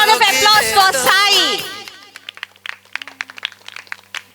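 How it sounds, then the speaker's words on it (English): Scattered audience clapping at a talent show, with loud shouting and cheering at first that fades into sparse, uneven claps from a small crowd. "Big round of applause for Sai."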